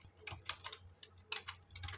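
Fingers tap out Arduino code on a computer keyboard in quick, uneven clusters of soft clicks, close and fairly quiet with no other sound.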